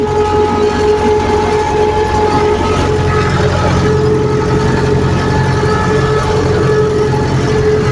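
A loud, steady YuMZ tractor engine pulling an SMD cultivator drones on without a break, a heavy rumble with a constant mechanical hum and no voices.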